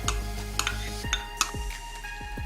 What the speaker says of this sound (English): you'll mix in your flour paste with the butter